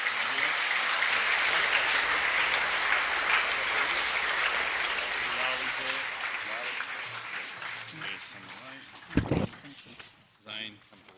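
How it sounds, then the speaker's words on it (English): A school assembly crowd applauds students with sustained clapping that tapers off, while an adult voice speaks over it, followed by a couple of sharp knocks near the end. "Round of applause for those boys."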